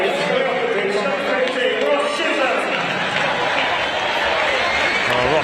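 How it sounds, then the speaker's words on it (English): A rugby crowd in the west stand at the Twickenham Stoop applauds players as they leave the field in a Harlequins versus Barbarians match, a dense, steady wash of clapping and crowd noise with a commentator talking over it. "they get a great applause from this west stand"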